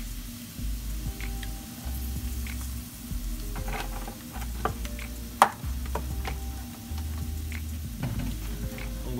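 Jerk tofu frying in vegetable oil in a pan, a loud, steady sizzle with scattered pops and crackles and one sharp clink, and a low hum running underneath throughout.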